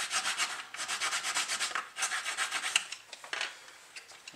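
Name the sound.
sanding wooden gun ports of Black Pearl model ship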